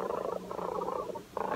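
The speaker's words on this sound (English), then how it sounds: "And then if you pat her, she'll purr." A robotic toy cat purrs steadily when patted, a soft drone that goes on continuously, close and even, with a slightly mechanical evenness and no voices over it.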